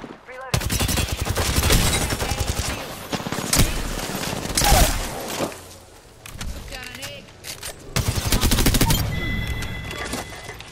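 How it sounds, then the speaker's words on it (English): Rapid bursts of automatic gunfire crackle in a battle royale video game, coming in several loud volleys separated by short lulls, with voices speaking over parts of the shooting. "Getting shot at."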